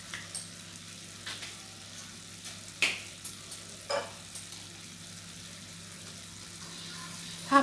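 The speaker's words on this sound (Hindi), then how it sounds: "अभी मैंने इसमें chilli sauce, tomato sauce and soya sauce add करके सारे सब्जी को फिर से हाई स्पीड में मिक्स कर रही हूँ।" Vegetables with chili sauce, ketchup and soy sauce being stir-fried at high speed for veg chowmein, a faint sizzle under scattered clinks and scrapes of a utensil against the pan.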